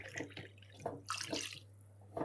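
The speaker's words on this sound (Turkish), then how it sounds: "karıştırma kabımıza 3 su bardağı ılık suyumuzu ilave ediyoruz" Lukewarm water poured into a mixing bowl for pide dough, a few short splashing bursts close by against a steady low hum, with no talking.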